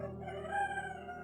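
A rooster crows once nearby in Africa, a drawn-out harmonic call that rises and fades over about a second.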